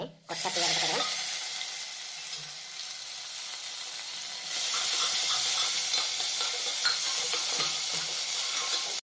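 Whole spices, bay leaf and cinnamon among them, sizzle steadily in hot oil for an Odia-style crab curry, a dense continuous frying hiss that stays close and loud throughout with a faint stir partway through.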